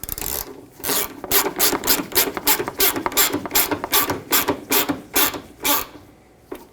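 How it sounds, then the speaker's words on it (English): A ratchet wrench tightens the 10mm nut on a front side bumper bracket of a 1995-2004 Toyota Tacoma, clicking in quick rhythmic bursts, stroke after stroke, close up with no speech. "And then the 10mm nut on the bottom, tighten that as well until the bushings squish in a little bit and clamp onto the bumper."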